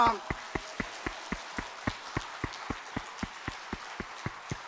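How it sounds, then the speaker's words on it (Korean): A church congregation at a Sunday worship service at Suncheon Juseong Church claps in unison while praising, with about eighteen sharp, evenly spaced claps at a steady rhythm. "우리 하고 외치면서 박수 치겠습니다."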